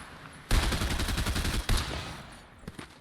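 Gunfire in the video game Fortnite: a sudden loud rapid burst of automatic shots, then a second short burst, trailing off into quieter scattered distant shots.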